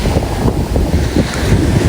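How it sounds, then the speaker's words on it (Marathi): Sea waves surge and crash onto coastal rocks on the Konkan shore, a continuous loud wash of water with heavy wind buffeting the microphone throughout. "दगडावर बघा कसं पाणी आलं"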